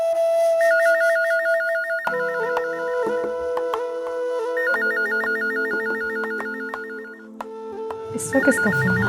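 An electronic ringtone with a repeating beeping melody plays loudly from a telephone, cycling several times while a musical score plays underneath and ends with a brief burst of rustling noise.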